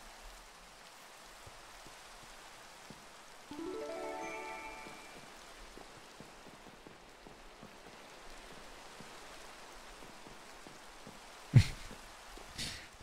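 Rain in a Pokémon video game falls as a soft, steady hiss from start to finish. A brief louder burst comes near the start, and a few sharp clicks sound toward the end.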